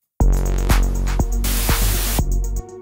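A white noise sample in an Ableton techno track cuts in sharply, loud and hissing, layered over a pulsing electronic beat with regular drum hits, then stops abruptly at the end.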